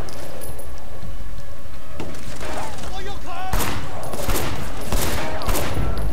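Gunfire in the video game Sleeping Dogs: loud bursts of shots and impacts in the second half, over a dense, noisy game soundtrack with a voice talking.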